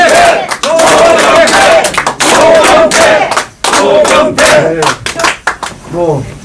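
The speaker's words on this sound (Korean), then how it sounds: "박수!" Crowd at a Korean political press event for a party leadership candidate, loud rhythmic clapping in bursts with chanted voices shouting in unison, pausing briefly between rounds, with a few voices rising at the end.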